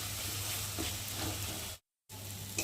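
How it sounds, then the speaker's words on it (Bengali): Spice masala frying in oil for katla kalia, a Bengali rohu fish curry, giving a steady close sizzle with a low hum beneath, broken by a brief silent gap before the sizzling resumes. "মশলাটাকে দেখো ভালো করে ভেজে নেব।"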